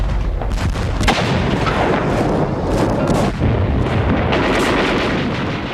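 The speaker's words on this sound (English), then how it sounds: "2 divisions of troops from British India came under fierce fire." World War II battle fighting in Burma, with dense, continuous gunfire and booming artillery blasts that roll on without a break, loud and close, with no voices.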